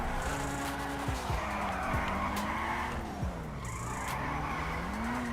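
A car drifting in GTA 5 on a handling mod, its engine droning steadily while tires squeal and skid in long wavering screeches, loud and continuous with no talking.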